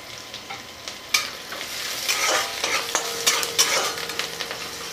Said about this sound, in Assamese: এইখিনি ৰংচোৱা হ'লেকৈ মই এনেকৈ ভাজিম